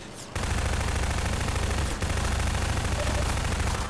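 Sustained rapid automatic gunfire in Half-Life 2, a loud, dense stream of shots with heavy low thump, briefly pausing near the start and again around two seconds before continuing.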